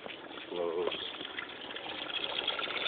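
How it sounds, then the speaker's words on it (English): Water pumped through half-inch PVC in a hydroponic net cup system with 2-inch net cups, a steady gushing, trickling flow that runs throughout at moderate volume. "This is where the water comes from the pump up all the way to the end through the half-inch PVC, and then all the way back and out"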